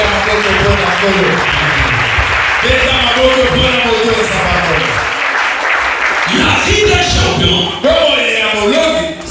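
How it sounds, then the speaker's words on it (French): A church congregation claps loudly and steadily throughout, with voices shouting and singing over the applause the whole time. "Acclamons très fort pour le Seigneur"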